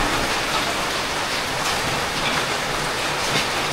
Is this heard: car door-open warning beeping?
no